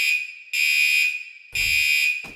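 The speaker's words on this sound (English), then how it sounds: "Sound the alarm." Two long, loud electronic alarm tones blare from the video game Sons of the Forest, each about a second long with a short gap, followed by a brief low thump.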